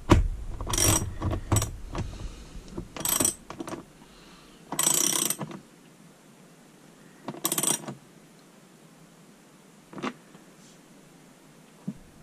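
A ratchet wrench tightens a nut on a van chassis while a house battery ground cable is installed, heard as several short bursts of close, crisp clicking separated by quiet pauses.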